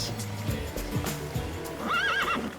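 A horse whinnies in its stable box, giving a quavering high-pitched neigh near the end. Earlier come soft hoof shuffles and stable movement. The horse is close and clear, with no talk.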